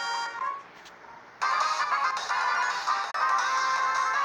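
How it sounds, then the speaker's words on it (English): A real phone's electronic ringtone trills in bursts, fairly loud and close, cutting in abruptly after a quieter opening and pausing briefly before ringing again, with no talk over it. "I just remember I didn't put my phone on Do Not Disturb."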